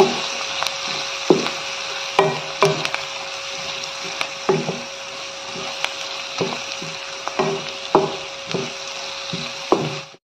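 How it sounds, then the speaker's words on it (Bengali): Spices with salt, turmeric, chili, cumin and coriander powder frying in a pan for hilsa fish bhuna: a steady close sizzle broken by frequent sharp clacks of a spoon stirring and scraping, with no talk. "এখন আবারও সব কিছু মিশিয়ে কিছুক্ষণ ভেজে নেব"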